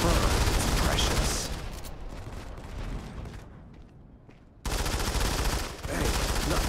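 Sustained automatic gunfire from the shooter game Modern Combat 5, dense and loud, easing off midway into a quieter stretch before bursting back at full intensity, with a voice talking over parts of it.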